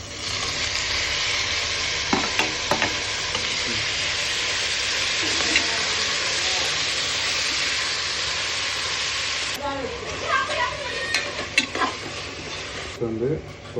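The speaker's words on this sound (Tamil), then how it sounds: "நல்லா ஃப்ரை பண்ணிக்கலாம்." Chicken biryani ingredients frying and being stirred in a pan at home, a loud continuous sizzle with scraping stirs, fading for a moment near the end.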